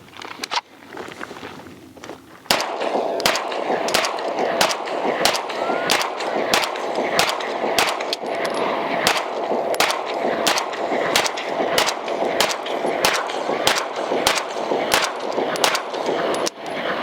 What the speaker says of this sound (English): She's gonna shoot her first rounds through the Staccato XL.